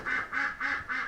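Four evenly spaced quacks from a farm duck, loud and close, each short and nasal with a steady rhythm and brief gaps between them.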